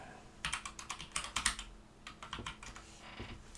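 Quick bursts of clicky computer keyboard typing, close and fairly quiet, come in uneven clusters of keystrokes with short pauses between them.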